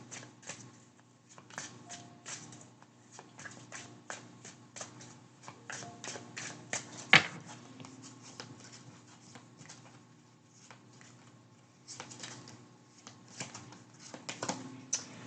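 Twin Flame Journey Oracle cards are shuffled in a quiet room: soft, rapid riffling flutters and light slaps come in uneven bursts, with one sharper snap partway through.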